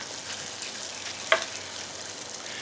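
Bacon frying in a pan as its fat renders out, a steady soft sizzle held at an even level throughout with one brief sharper pop near the middle.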